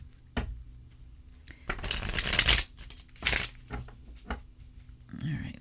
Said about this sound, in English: let's do a couple more shuffles this way.